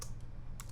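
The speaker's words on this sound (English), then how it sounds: "I'm going to hit the W on my keyboard, hold down the shift button" A few quick clicks of computer keys pressed in a steady hum of room noise, close and distinct, with no voices.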